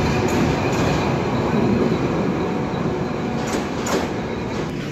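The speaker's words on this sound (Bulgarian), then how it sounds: "пристигна влака" A train rolls into a central railway station, a steady loud rumble of wheels and carriages filling the platform with faint metallic squeals and clanks over it, and no voices.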